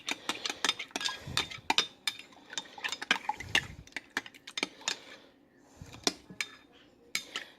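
A spoon stirs a mixture vigorously inside a jar while a CO2 bed bug trap is made, giving rapid, irregular clinks and scrapes against the glass, close up and fairly quiet, with no talking.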